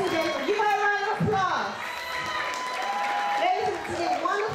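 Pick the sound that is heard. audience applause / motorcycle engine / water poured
audience applause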